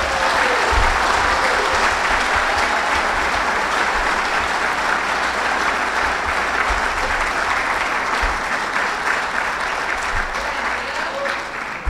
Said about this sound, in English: Please give a round of applause for our newest Westlake Hall of Fame inductee